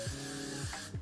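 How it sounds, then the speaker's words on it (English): Short hiss of Got to Be hairspray misted onto a cosplay wig, one continuous close spray burst lasting most of a second with faint rustling at the edges. "give it a nice little spray."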